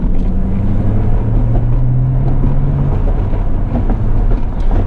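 A 1996 C4 Corvette Grand Sport accelerating in second gear, heard as a continuous low engine rumble with a slowly rising tone, loud and steady from inside the car, with no talking.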